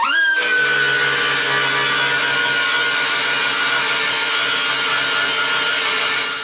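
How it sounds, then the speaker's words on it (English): Belt sander running on car body repair work around a patched bullet hole: a loud, close, steady whirring grind that holds constant throughout after a quick spin-up at the start. "I'm going to get my belt sander and clean that up."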